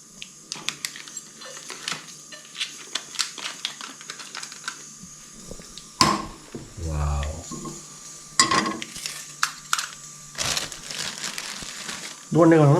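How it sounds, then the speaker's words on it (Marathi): Omelette frying in butter in a nonstick pan on a gas stove, crackling and sizzling with clicks and scrapes of handling, interrupted by louder bursts of nearby speech. "ऑमलेट बनणार आहे बटरमध्ये"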